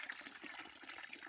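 Water from a natural village spring in Pauri Garhwal, Uttarakhand, pours into a vessel with a steady, close splashing gurgle, unbroken and alone.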